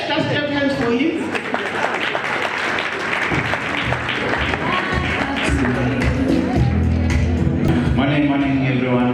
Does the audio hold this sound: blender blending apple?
no